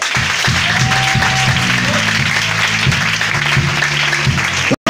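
Congregation at a Pentecost church service applauding together, a steady dense roar of clapping with rhythmic low music running beneath, continuous and loud until a brief cut near the end.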